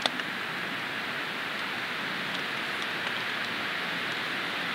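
Rain falls on a tepee hot tent in the forest, making a steady, even hiss of drops on the canvas with a few faint taps and no voices.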